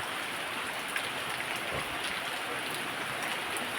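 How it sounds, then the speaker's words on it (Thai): Rain falls steadily in a cool wind, a soft, even hiss of drops close by that stays faint and uninterrupted. "ฝนตกลมเย็นสบายนะครับ"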